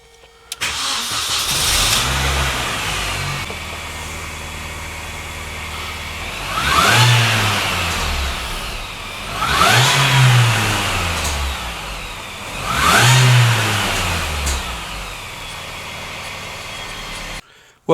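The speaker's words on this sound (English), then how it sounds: "So why don't we try and see if the car starts?" Mini Cooper S R53 engine cranking and catching after repair, then revved three times in distinct rising-and-falling bursts between idle stretches, loud and close.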